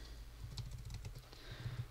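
Fast, faint typing on a computer keyboard while entering code, a quick run of light key clicks with brief pauses.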